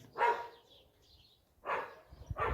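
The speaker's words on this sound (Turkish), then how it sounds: "Duyuyorsunuz bolca da köpekleri var." Dogs bark a few times at a moderate distance in a Turkish village, separate sharp woofs with pauses between them, outdoors and without talking.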